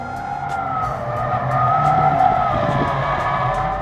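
Ford Mustang engine revving in short repeated throttle bursts while the car drifts, with a droning exhaust note over tire noise.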